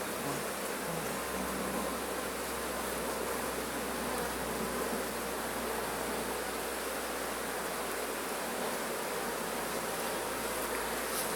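Honeybees hum in a dense, continuous drone at an open hive while queens are being released into queenless splits, loud and close throughout, with no talking.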